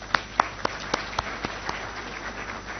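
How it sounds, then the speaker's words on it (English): A few scattered hand claps at a live summit event in Pune, spaced roughly a quarter second apart and fading out, thin and sparse rather than a full crowd. "so a round of applause for"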